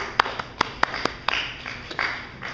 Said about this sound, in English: A weak, feeble clap.